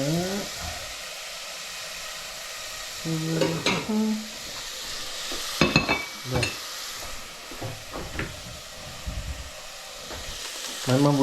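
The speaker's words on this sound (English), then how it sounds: "Just give it a stir." Onions sizzling in a pot of hearty mushroom soup while a utensil stirs them, with a steady frying hiss under several scraping, clattering stir strokes and brief bits of voice.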